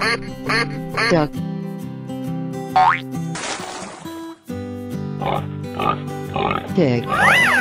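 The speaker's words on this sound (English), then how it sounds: "Pig." Pig oinking sound effect from an animal guessing game, several short grunting bursts alongside quacks, boings and other cartoonish effects, fairly loud with a voice naming animals around it.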